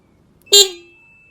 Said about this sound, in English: Okay, so that is the horn